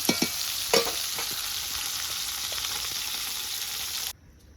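Fish heads from pona fish sizzle loudly in hot oil in a pan, with a few scraping stirs near the start, the steady frying hiss running alone before cutting off abruptly near the end.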